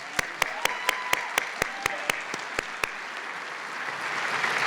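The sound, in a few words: applause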